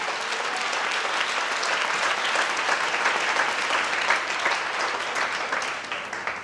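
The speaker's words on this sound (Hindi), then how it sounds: "उसके लिए ताली बजाइए अकेले।" A congregation at a church service claps loudly and steadily, dense sustained applause that fills the room for several seconds and fades slightly near the end.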